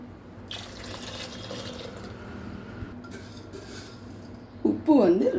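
Water poured into a pot for tomato kichadi: a soft background hum, then a short splashing pour that swells near the end of the clip.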